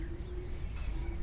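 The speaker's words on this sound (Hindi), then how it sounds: "ताजी ये केड़ा कबूतर है जी? जी ये भी डॉन कबूतर है" A Don breed pigeon on a rooftop gives a brief, faint, sustained coo over low background rumble.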